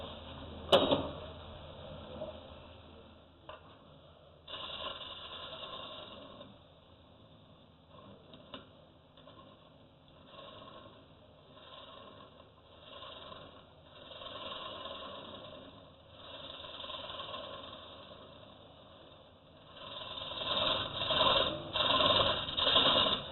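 A wood lathe turning a bowl held at limited speed, a low motor hum with intermittent scraping cuts of the tool against the spinning wood, swelling louder toward the end.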